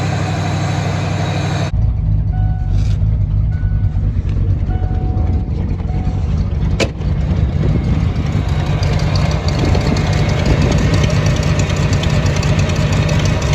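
A 1988 Ford F-250 pickup, run after sitting more than a decade, idles steadily with a loud, close, continuous rumble that carries on without a break.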